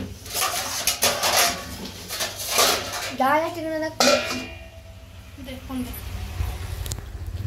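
Dishes and utensils clatter and clink in a home kitchen being tidied, with bursts of metallic knocks and scrapes close by, while someone talks over much of it.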